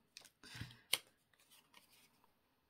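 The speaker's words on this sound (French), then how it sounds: "Maintenant, on va venir couper le papier déco quand même, de cette pochette." Scissors cut through decorative paper close up: a few quiet crisp snips and slicing strokes, one sharper clip standing out, then lighter rustling of paper fading to silence.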